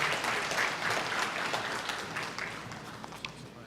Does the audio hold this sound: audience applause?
yes